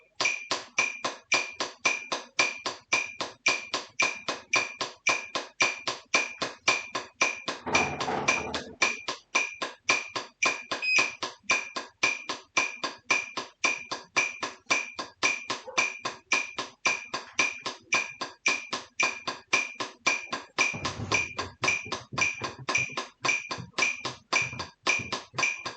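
Drumsticks striking a drum head in a percussion exercise played from the wrists, a long run of sharp, evenly spaced hits at a steady quick pulse, close and distinct with no talk.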